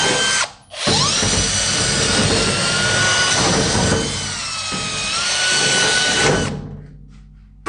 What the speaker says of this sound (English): Drill out these holes again.